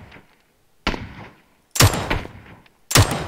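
Gunfire in the battle royale video game PUBG, three sharp loud bursts of shots separated by short pauses, the last two heavier and more reverberant.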